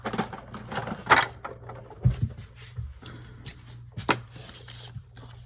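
Scissors snip paper in short, uneven cuts with soft rustling and handling noises between them, close and fairly quiet, with no talk.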